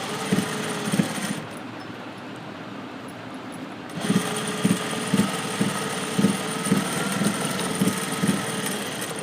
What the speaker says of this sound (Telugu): డబుల్ కుట్టేసుకోవాలి, గట్టిగా అవుతుంది.